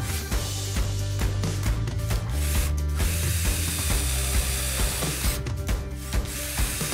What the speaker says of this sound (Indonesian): kita akan uji apakah bor ini mampu menghandle baut drilling